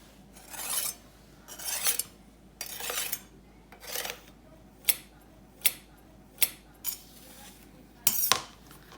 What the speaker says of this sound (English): take our knife, and just trim the edge of our pie